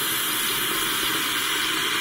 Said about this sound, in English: Air just getting pumped out of the water heater.